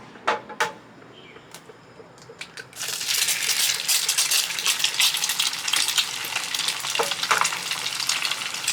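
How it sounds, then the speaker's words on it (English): Eggs hit hot bacon grease in a pan after a few light clinks, and a loud, bright sizzle follows. The crackling frying goes on steadily and up close, with small pops and stirring scrapes. "There's nothing better than frying eggs in bacon grease."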